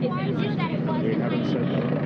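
A helicopter hovering above a press conference after an explosion in Chelsea: a loud, steady rotor drone and whine that persists throughout, with voices speaking over it.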